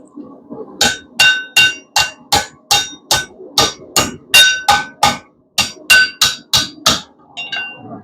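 Hot steel is struck over an anvil by a blacksmith bending a piece for a paper towel holder, about twenty sharp, ringing hammer blows in a quick steady rhythm, close and loud, with no talk.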